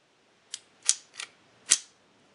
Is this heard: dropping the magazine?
yes